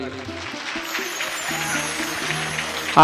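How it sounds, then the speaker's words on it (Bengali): Audience applause at a devotional Bhagavat recitation: a steady wash of clapping runs the full three seconds beneath sustained harmonic music and voices. "একবার এদের জন্য জোরদার তালি"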